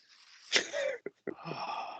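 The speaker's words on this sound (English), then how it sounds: "The old warningless sneeze." A baby's small, sudden sneeze bursts out, followed by a couple of short wheezy breaths and a soft snuffle, close and fairly quiet.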